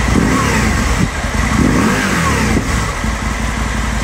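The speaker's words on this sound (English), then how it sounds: "that's with the fan coming on now. Nice steady idle." Aprilia Caponord motorcycle engine holding a steady idle with its radiator fan running, a continuous close mechanical hum and rumble through aftermarket exhaust cans.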